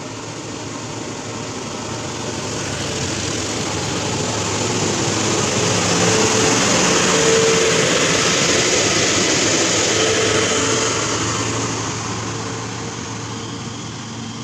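A Budiman bus engine labors up a steep uphill road, a broad continuous rumbling roar that swells in the middle and eases off toward the end, with no voices over it.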